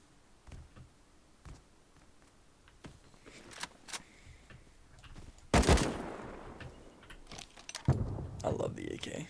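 Gunfire from an AK rifle in a video game, with a few sharp broadband bursts around the middle and end, mixed among keyboard clicks and quieter game noise.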